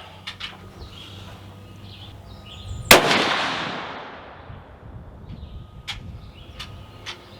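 A single loud report from a Savage 400 Legend rifle, a sharp crack at close range followed by a long fading echo, with distant birds chirping before and after.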